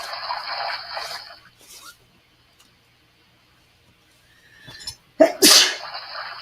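A single sharp sneeze near the end, following an Altoid mint, loud and close after a stretch of quiet room noise and faint rustling.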